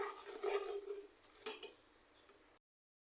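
Spoon or spatula scraping and clinking around a pan of sugar being melted into caramel, a few close metallic strokes then quieter stirring.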